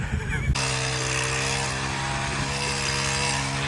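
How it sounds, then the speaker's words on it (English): A borrowed hedge trimmer starts up and runs steadily while cutting into overgrown bush, its loud motor drone holding a constant buzzing pitch after an abrupt start, with a brief voice at the very beginning. "Having borrowed the hedge trimmer, Lewis was under strict instructions not to"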